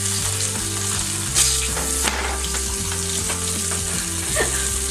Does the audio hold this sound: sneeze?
no